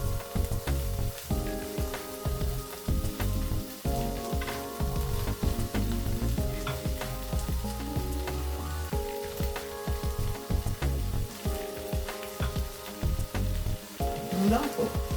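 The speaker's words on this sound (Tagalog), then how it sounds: "Lagay ko na po yung mga fish fingers ko na fried." Fried fish fingers sizzling in a pan with onions, a loud, steady crackle of hot oil with repeated stirring scrapes and a faint background tone running under it.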